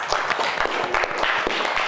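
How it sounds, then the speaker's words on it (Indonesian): Students in a computer class clap for a classmate, a brief burst of scattered, uneven clapping from a small group, close and fairly loud. "Oke, tepuk tangan dulu untuk ikhlas"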